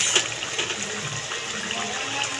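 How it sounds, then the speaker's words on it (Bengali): A pot of taro and potato curry with hilsa fish heads simmers with a steady, soft bubbling hiss throughout and a small clink at the end, with no talking. "ফুটতে শুরু করে দিয়েছে"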